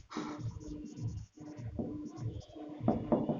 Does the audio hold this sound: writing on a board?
yes